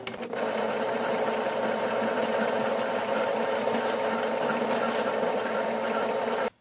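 An Epson L8050 photo and PVC card printer runs its initialization cycle, giving a steady mechanical whir and hum that holds evenly for about six seconds before stopping abruptly, with no talking.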